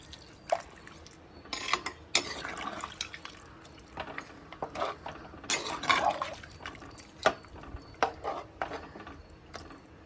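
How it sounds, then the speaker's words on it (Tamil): Water is poured into a pan of mutton kulambu in uneven splashes and glugs, with drips and a light clink of the vessel, close and without talk. "குழம்புக்கு தேவையான தண்ணி ஊற்றிக்கலாம்"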